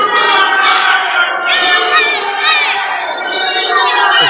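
A wrestling arena crowd chants loudly in unison, rhythmic massed voices repeating a patriotic chant that rises and swells throughout, close and dense with shouting mixed in.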